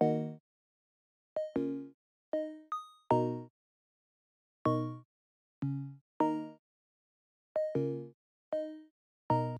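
A bright Serum synth preset plays a short, plucky melody of separate notes with gaps between them, clean and upfront with no voices.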